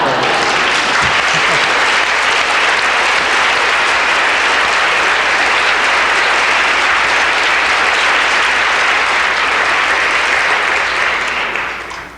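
Sustained applause from a large crowd, dense and steady for about twelve seconds before tapering off slightly at the end.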